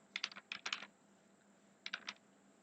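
Short bursts of keystrokes on a computer keyboard while entering an Excel formula, two quick clusters of clicks separated by a pause, close and clear in a quiet room.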